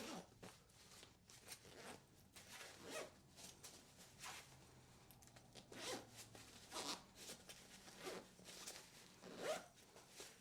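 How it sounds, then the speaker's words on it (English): A compression zipper on a fabric packing cube is pulled in a series of short, quick strokes, close and fairly quiet, with soft rustling of fabric between pulls. "all we have to do is use this compression zipper to compress down the items that are inside."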